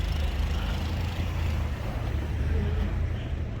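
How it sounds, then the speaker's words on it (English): Snowblower engine droning steadily outdoors in a New Jersey blizzard, a loud continuous low rumble with wind noise layered over it. "Don't mind the snowblower behind us, because that's what's cleaning out my house"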